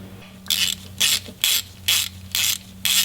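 A ratchet with an 11mm socket loosens axle cover bolts on a Dana 30 axle, giving six evenly spaced bursts of rapid pawl clicking about half a second apart against a low steady hum.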